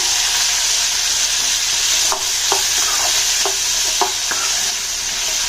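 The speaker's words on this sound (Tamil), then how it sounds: "இப்போ நம்ம தக்காளி சேர்த்துக்கலாம்." Tomatoes for a chutney go into a hot frying pan with green chilies, giving a loud, constant sizzle, while a spoon scrapes and taps the pan several times in an uneven rhythm.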